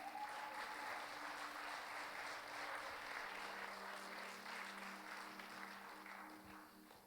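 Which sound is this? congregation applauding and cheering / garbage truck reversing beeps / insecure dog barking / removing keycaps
congregation applauding and cheering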